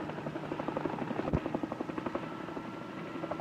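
Helicopter descending onto a rooftop heliport, its rotor chopping in a fast, even pulse with engine drone, moderately close and steady throughout.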